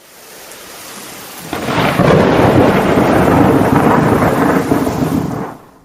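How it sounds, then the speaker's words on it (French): A nighttime thunderstorm with heavy rain: a broad roar of downpour and rumbling thunder swells in after a quieter start, holds loud and steady, then cuts off abruptly. "Il fait nuit, le temps est orageux et il pleut beaucoup."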